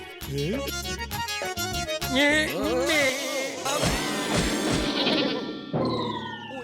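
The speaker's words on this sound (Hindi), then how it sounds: "ये नई बकरी कहाँ से आ गई?" Cartoon goat bleating in a 3D animated kids' show, loud wavering bleats over music and sound effects, filling the whole stretch.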